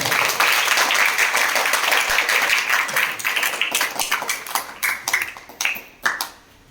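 Hearty applause from a classroom of students opening a mathematics session, dense clapping that thins into scattered individual claps and fades out toward the end.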